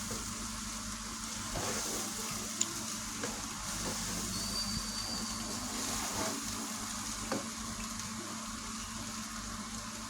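Chicken fried rice with spring onion is tossed and stir-fried in a pan, giving a steady, faint sizzle over constant background noise, with an occasional soft clink of a utensil.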